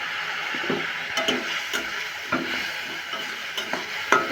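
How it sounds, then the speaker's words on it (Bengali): Onion-spice masala with Kashmiri chili powder fries in a pan, a soft constant sizzle broken by sharp spoon scrapes and knocks against the pan at irregular moments. "এটাকে ভালো করে কষিয়ে নেব।"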